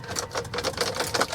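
A car's fuel pump whirs with a buzzy, clicking hum, faint and close, while the starter stays silent.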